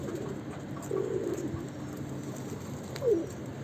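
Young Karabaş pigeon cooing, two soft low coos about two seconds apart over a quiet background hum, fairly close.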